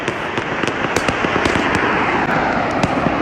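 Fireworks and firecrackers explode for Chinese New Year in the Guangzhou countryside, a loud nonstop crackling barrage with sharp individual bangs popping out of the dense roar.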